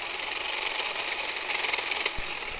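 A Dewalt 20V MAX cordless hedge trimmer cuts through a small branch. Its blades buzz steadily with a fast chattering rhythm, close and moderately loud, with a short thud near the end as the cut finishes.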